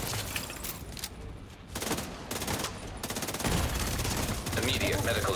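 A video game automated turret fires in long, dense rapid bursts, loud and continuous with brief gaps, keeping the barrage going throughout.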